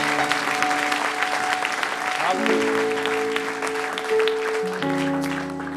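A church congregation at a Sunday service applauds the worship team: sustained, even clapping from the crowd over sustained keyboard chords that shift in pitch, with some voices mixed in.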